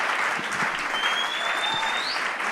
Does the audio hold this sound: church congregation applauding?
yes